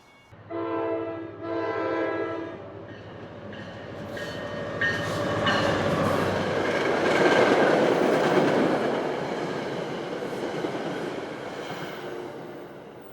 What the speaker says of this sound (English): Looks like we have a train coming too.